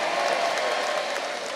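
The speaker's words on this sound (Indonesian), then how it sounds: "Tepuk tangan buat semua yang hadir di sini" A rally crowd claps in a dense, steady burst of applause, loud and close throughout with no pauses.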